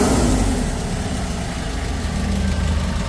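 A Kia K2500 diesel engine runs steadily at idle just after starting, a loud, close, rough rumble that holds constant throughout.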